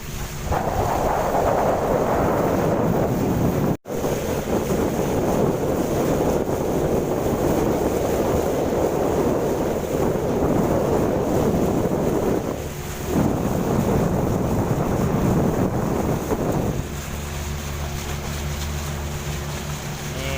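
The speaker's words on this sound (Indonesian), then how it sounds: "Kapal Fajar Bahari 3." Aboard the ship Fajar Bahari 3 at Dwi Kora port, Pontianak, a steady low engine drone runs under heavy wind buffeting on the microphone, continuous and loud, easing slightly near the end.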